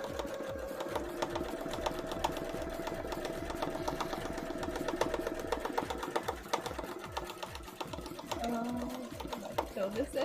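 An embroidery sewing machine stitching fire embroidery runs in a fast, steady mechanical rhythm of needle strokes, close and continuous, with a faint tonal hum behind it.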